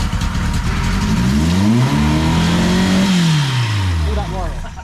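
An Austin Ten Special's engine revs hard with its throttle stuck open, a loud, close, sustained roar whose pitch climbs, holds, then falls away, while people talk underneath.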